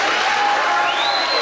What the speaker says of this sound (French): On peut applaudir cette école de Saint-Bonny.